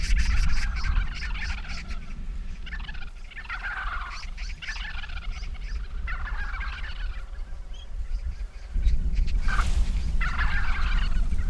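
Large flock of wild vultures squabbling over food at a winter feeding site in Korea, a steady mass of harsh, croaking calls and hissing bursts throughout, with a louder scuffle near the end.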